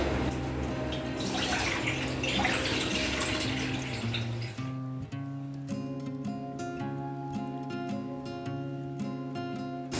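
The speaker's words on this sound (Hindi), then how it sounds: "गैस जला लेंगे, पानी डालेंगे।" Water pours steadily into a pot on a gas stove for making Maggi noodles for a few seconds, then stops as music carries on underneath.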